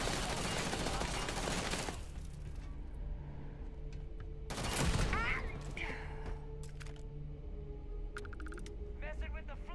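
Bursts of gunfire from the Starfield video game crackle through a dense, noisy battle mix, with a loud volley near the middle and sharp shots scattered through, under background talk and game voices.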